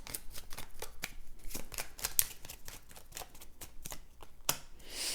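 Tarot cards are shuffled and pulled in a quick, close, crisp run of riffling snaps and slaps, steady and fairly faint, with no talking.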